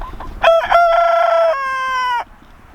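A young backyard rooster, first taken for a hen, gives one loud, close cock-a-doodle-doo lasting about two seconds, with a short clucking start and a long held, wavering final note, alone with no talk.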